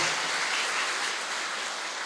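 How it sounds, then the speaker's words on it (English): Steady applause from an audience at the Peralta Colleges African American graduation ceremony, a dense, even patter of clapping heard alone and fairly close. "let's give ourselves a round of applause"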